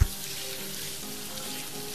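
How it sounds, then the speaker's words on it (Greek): Chicken fillet frying in oil in a pan, a steady close sizzle and crackle that holds evenly for the whole stretch, opening with a brief knock and with no speech. "και τηγανίζω το κοτόπουλο"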